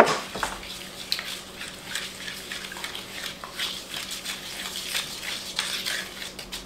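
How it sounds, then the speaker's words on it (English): A utensil scrapes and clinks steadily against a bowl while chocolate zucchini bread batter with honey is mixed, a close, moderately quiet rhythmic stirring with no voice. "Now we're going to just mix that together."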